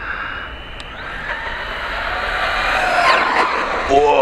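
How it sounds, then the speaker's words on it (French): A VKAR Racing Bison V2 RC car braking hard, its small motor whining and tyres scrubbing in a rising, close-up burst, with people talking over it. "Ça c'est du freinage."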